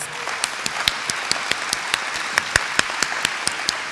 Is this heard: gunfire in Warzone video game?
no